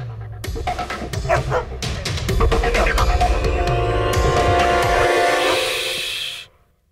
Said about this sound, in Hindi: उन कुत्तों को छोड़ दो, जो वफादारी भूल जाते हैं उन्हें वफादारी सिखानी है।